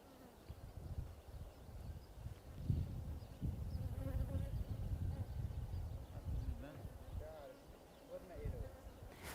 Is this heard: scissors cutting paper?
no